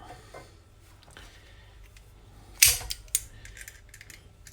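Scissors cut through a piece of silicone up close, giving a couple of sharp snipping clicks over a quiet room hum.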